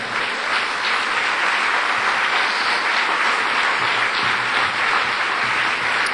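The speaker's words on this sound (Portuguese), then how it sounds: "Aplauda ao Senhor." A church congregation applauding, a dense, even wash of clapping that holds steady the whole time with no voices over it.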